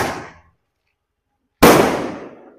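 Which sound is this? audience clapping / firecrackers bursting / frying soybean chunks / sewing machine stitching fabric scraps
firecrackers bursting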